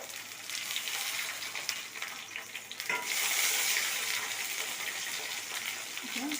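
Dried red chillies frying in hot oil in a kadai for a village-style kara chutney tempering, a steady crackling sizzle that swells louder midway and continues without talk.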